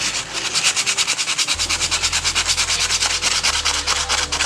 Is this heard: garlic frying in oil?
no